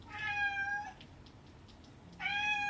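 A house cat meows loudly for food, two long drawn-out demanding cries separated by a short quiet pause, close to the listener with no talk.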